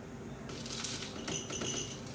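Ice cubes drop into a cocktail glass, a burst of bright clinks and rattles starting after a brief pause, fairly close and moderately loud with no talk.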